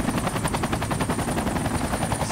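A military helicopter in the Project Reality game thumps with rapid, rhythmic rotor beats over a steady engine roar, loud and close throughout.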